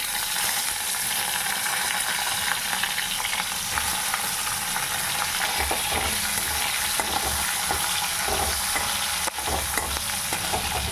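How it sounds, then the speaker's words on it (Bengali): Potatoes fry in a pan with ginger for a homemade lunch, giving a steady close sizzle with scattered scraping stirs and small pops throughout, and no voices. "তারপরে এই যে আলুটা দেবো, আলুটা একটু ভেজে দেবো আগে"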